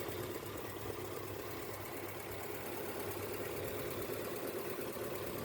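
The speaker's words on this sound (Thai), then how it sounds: "เดินเบาทิ้งไว้สักพักนะครับ" A steady, low mechanical hum of a freshly started Honda car engine idling cold, even and continuous with a faint rhythmic knock, no voices.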